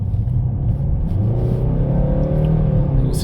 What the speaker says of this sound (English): Now we're going to take the vehicle on a test drive for a few miles.